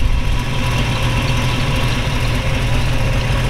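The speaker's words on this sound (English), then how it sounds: "We want you to hear it run and start it up there like we try and do." Steady, close idle of a 350 V8 in a 1932 Ford Tudor all-steel resto rod, a deep even rumble heard alone without revving.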